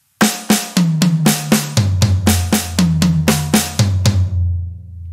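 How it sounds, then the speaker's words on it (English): A drummer plays a steady run of sharp hits moving between snare and toms, pairs of strikes stepping down in pitch, ending with a fading ring. "2 in the high tom, 2 in the snare, 2 in the low tom"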